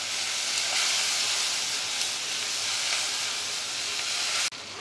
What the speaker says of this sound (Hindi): अच्छे से 1 मिनट भूनेंगे।